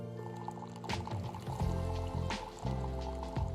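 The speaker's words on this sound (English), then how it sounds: "Simply place the cup on the drip tray under the hot water tap and turn the dial to the" Hot water pours from the tap of a Breville Barista Sense espresso machine into a cup on the drip tray, a steady close stream layered over the machine's humming, tonal mechanical drone.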